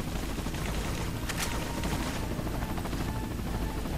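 Machine gun fire in Resident Evil 4, dense continuous rattling bursts mixed with mechanical noise, loud and steady throughout, with no talk.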